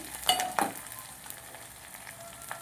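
A short burst of crackling sizzle as tempering spices hit hot oil, a couple of sharp pops early on, then a softer, steady hiss.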